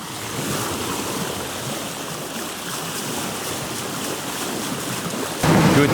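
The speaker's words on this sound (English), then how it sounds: "The issue now is that it's raining a lot" Rain and wind battering a sailing boat at sea in heavy weather, a dense, steady rush of water and gusts close around the microphone, swelling louder near the end.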